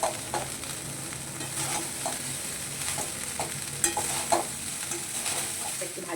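Pre-salted rice being stir-fried in a pan, a continuous soft sizzle broken by scraping, tapping stirs at an irregular pace, with no talking.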